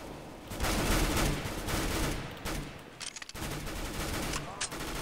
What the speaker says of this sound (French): Mais genre il me tire à travers le mur.